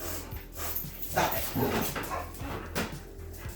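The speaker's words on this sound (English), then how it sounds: "Kaylee's one of my dogs. She's very rambunctious" Kaylee, a rambunctious pet dog, pants, whimpers and lets out short barks and yips close by in a workspace, while a person briefly tells her to stop.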